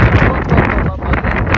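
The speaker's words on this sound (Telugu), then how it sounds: "ఫుల్ విండ్ అనమాట" Strong wind buffeting outdoors in Scotland, a loud, rough rumbling gust blowing across the microphone for the whole moment.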